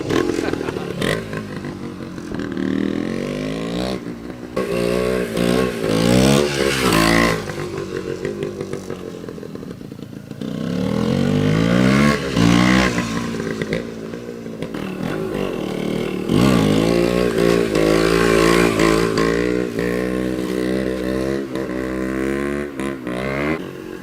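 A 1971 Yamaha DT1 250 two-stroke motorcycle is ridden and wheelied, its engine loud and close, revving up and down through repeated rising and falling pitch sweeps with brief drops between runs.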